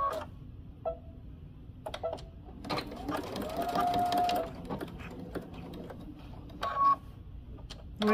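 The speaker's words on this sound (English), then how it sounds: "we're gonna take it to the machine and we're gonna stitch along the seam line on the raw edges" A sewing machine stitches along a seam line on the raw edges of a garment, running in short bursts with clicking pauses, close and fairly quiet, with a longer steady run in the middle.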